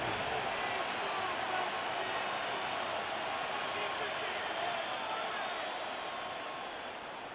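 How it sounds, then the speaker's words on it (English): Stadium crowd at a simulated Kansas City Chiefs at Denver Broncos football game making a sustained, fairly distant roar of racket that stays steady, then eases slightly near the end. "this crowd doing their best to make a lot of racket"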